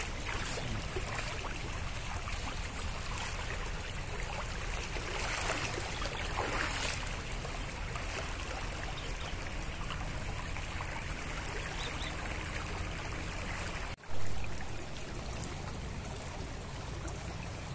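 A river flows steadily near a bridge, a continuous broadband wash of moving water that stays even and fairly close throughout, with one brief knock near the end.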